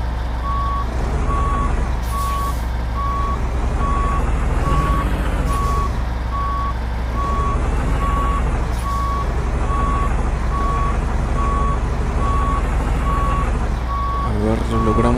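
A Kenworth T680 truck in a trucking simulator reverses to back a Walmart trailer in, with a loud, steady electronic reversing beep repeating evenly over engine rumble while someone talks.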